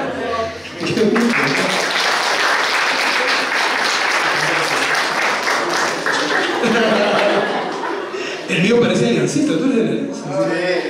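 An audience applauds at a Spanish-language talk event, dense sustained clapping swelling and continuing for about ten seconds, with chuckles and voices mixed in near the end.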